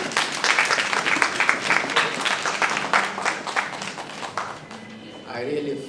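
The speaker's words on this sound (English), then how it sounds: "Please, let's all stand up and give him a very round of applause." Audience at a book reading and website launch gives a standing round of applause for an honorable guest speaker, a dense steady clapping that fades out near the end.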